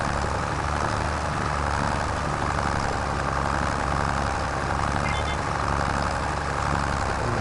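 A small John Deere tractor engine in Farming Simulator 25 labours under load while cultivating, a steady loud droning rumble that holds constant throughout with no pauses or talk.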